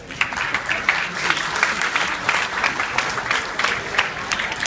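An audience aboard the cruise ship M/S Finlandia applauds a magician's performance, with dense, steady clapping from many hands close by and a faint crowd murmur underneath throughout.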